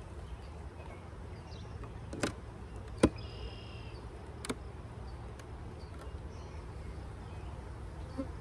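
A swarm of bees hums steadily in the background, faint and continuous, broken by a few sharp clicks or taps close by.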